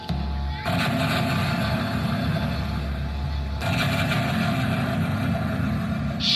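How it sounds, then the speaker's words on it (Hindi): Heavy, rumbling bomb blasts boom loudly, with a dense low roar that restarts abruptly partway through, like explosions going off close by, in a school patriotic play. "2 बम धमाके की आवाज सुनाई दी"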